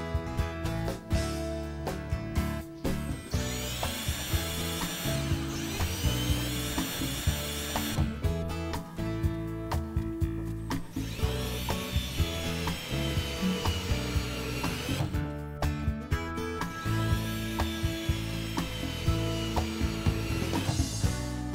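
A screw gun drives screws through bath clips into wall studs, giving repeated whirring bursts with ratcheting clicks and tapping, steady and close throughout.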